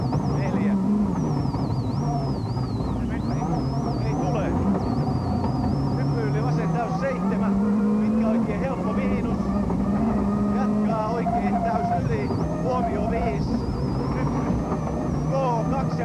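A Peugeot rally car engine that has dropped a cylinder runs rough and uneven at the 2001 Rally de Portugal, droning steadily throughout while someone talks over it.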